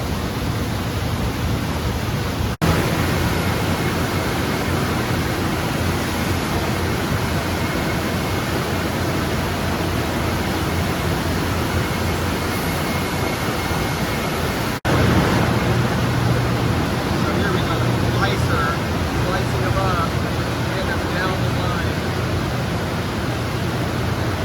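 Steady broadband rush of water rinsing tomatoes sliding down a large tomato slide in a big cannery, continuous and loud with no voices.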